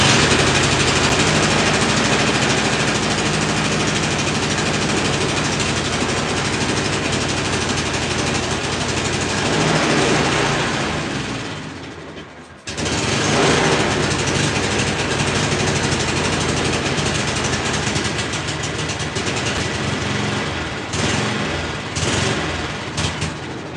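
A small engine roars continuously after starting with the choke on during a carburetor repair, loud and close, briefly dropping out near the middle before firing back up and running rough to the end.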